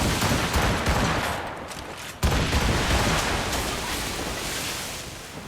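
Ship cannons in Assassin's Creed Rogue roar in a long, dense volley at sea, with one sharp blast cutting through a heavy, continuous rumble of fire and spray.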